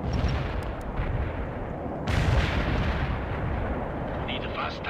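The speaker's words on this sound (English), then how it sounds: "Barrage hit for full effect." An artillery barrage in the World in Conflict video game: a dense, rumbling roll of heavy explosions and booms, surging louder midway, with game radio voices faintly mixed in.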